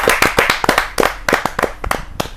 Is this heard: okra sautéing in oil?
no